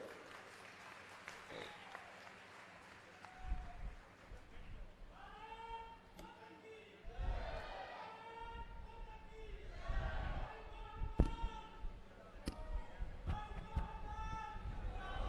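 A crowd at a BJP political rally in Sonipat claps in welcome, with applause swelling and thickening across the stretch, mixed with crowd noise and a voice speaking over a loudspeaker.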